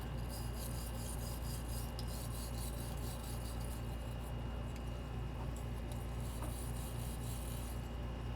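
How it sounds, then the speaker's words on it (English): A small brush scrubs a car chassis part clean, a close, steady bristly rasp that continues without a break. "Just take my little brush, give it a good brush in, try to get in all the nooks and crannies."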